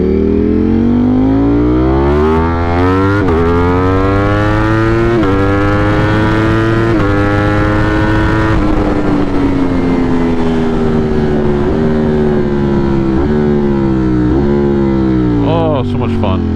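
Ducati motorcycle ridden on a commute, its engine loud and close, revving up repeatedly in rising sweeps with gear shifts between them; a rider's voice talks over the steady roar.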